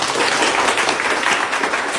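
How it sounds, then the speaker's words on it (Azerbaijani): Children applaud together in a steady, dense wash of clapping, loud and close, lasting throughout without pause. "Alqışlamayaq uşaqlar."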